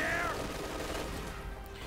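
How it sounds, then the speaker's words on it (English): Autocannon fire from Company of Heroes 2 shreds the thin hull of an M20 armored car as a continuous, dense gunfire rattle of steady loudness that runs through the whole moment, with no voices. "Auto cannon fire, tearing through the thin hull."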